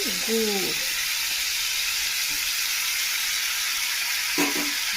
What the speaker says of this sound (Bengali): গুড়টা দিয়ে আমি ভালো করে নেড়ে নেব।